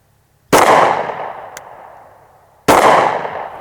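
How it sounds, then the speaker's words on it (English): Two sharp, loud reports from a Glock Model 36 .45 ACP pistol, about two seconds apart, each with a long ringing decay. A faint click falls between them. "Yep, 6 shots"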